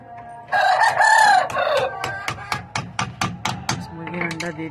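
A rooster crows loudly close by, then a run of sharp, rhythmic clucks from chickens follows, with more hen sounds trailing at the end; no speech over it.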